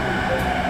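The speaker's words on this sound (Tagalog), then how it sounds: "Ito, yung train na to, same platform kayo, pero hindi yan yung train namin." Steady rumbling roar of a train at a station platform in Tokyo, a continuous loud wash of rail noise with no break through the short moment.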